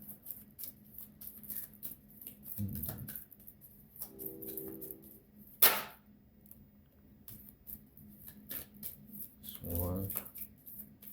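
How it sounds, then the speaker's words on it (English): Oracle deck cards spill and are gathered up by hand, with soft papery rustles and scrapes, one sharp slap of cards landing, and brief bursts of quiet talk in between. "I dropped a whole lot of cards."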